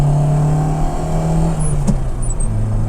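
A Fiat Cinquecento drives along with a steady engine drone, and a brief mechanical clunk from a shift into third gear comes near the middle, followed by the engine note settling at a new pitch.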